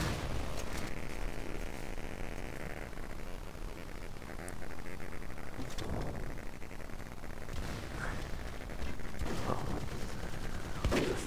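Super Sniper gunfire in the video game Microvolts: several sharp shots crack out at irregular intervals over dense, continuous game noise.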